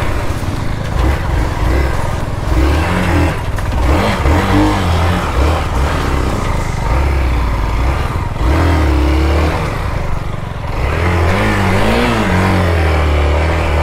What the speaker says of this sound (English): My Duke 390 is being rode by Chandan Dineshan, my college friend.